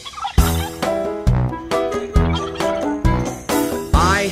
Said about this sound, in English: He waddles as he walks. Waddle, waddle, walk, walk. He gobbles as he talks.